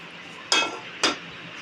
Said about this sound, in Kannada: ಇನ್ನೊಂದು ಪಾತ್ರೆನ ಇಡ್ತಿದ್ದೀನಿ.